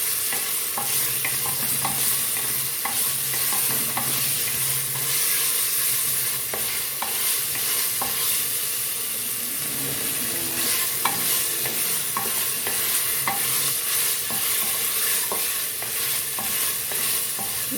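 Garlic-ginger paste and onions sizzle in a pan, stirred with a utensil in steady scraping strokes. The frying hiss runs throughout at close range, with no talk.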